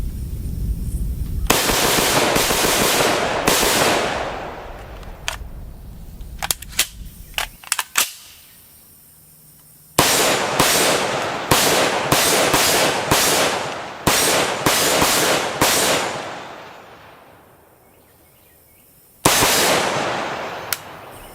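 A CZ 805 Bren SBR rifle with an 11-inch barrel fires outdoors in loud, sharp shots, some spaced singly and others in quick rapid strings, separated by a few short quiet gaps.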